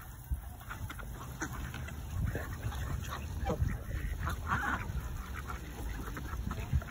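Geese honking on a lake shore amid a busy outdoor bird-feeding scene, with repeated calls scattered over steady background noise and no clear talk.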